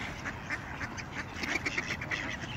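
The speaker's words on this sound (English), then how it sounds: "Waterfowl doing their waterfowl thing." Waterfowl calling at night in a Seattle neighborhood, with faint, repeated quacking calls over a steady background hum and no talking.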